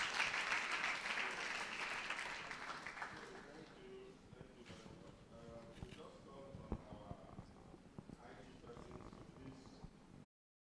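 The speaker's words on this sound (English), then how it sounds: "Please give him a round of applause." Applause from the audience at a secondary school debate event, loud and dense at first, then thinning into scattered claps with voices beneath, before cutting off.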